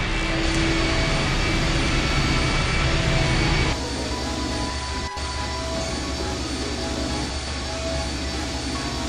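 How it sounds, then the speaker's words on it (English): A large engine starts up in the point-and-click game I Have No Mouth and I Must Scream, a loud, steady roaring drone that drops to a lower sustained rumble partway through, with a brief click near the middle. "I'll be damned. The engine's starting up again."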